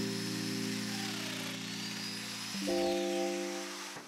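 A domino joiner plowing mortises into wooden tabletop boards, a loud steady motor whine that holds for a couple of seconds, then shifts pitch and runs on as the cutter plunges into the wood.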